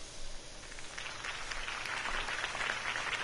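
Crowd applause in the video game Batman: The Telltale Series, a moderate wash of clapping that swells and holds steady for a few seconds without talk over it.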